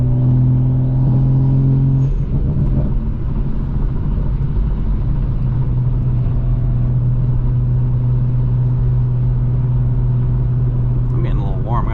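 Toyota Supra engine droning steadily from inside the cabin on a late-night drive, a loud low rumble with a strong steady hum that shifts pitch briefly early on, someone talking over it.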